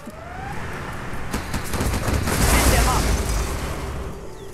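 Sustained gunfire and booming blasts from a C&C Generals battle between Toxin Tractors and Overlord tanks, a dense, continuous roar of shots and explosions that swells toward the middle and stays loud throughout.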